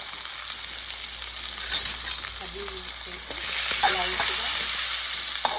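Turmeric and curry leaves frying in hot oil, a steady bright sizzle that intensifies partway through, close by, with a voice speaking briefly over it.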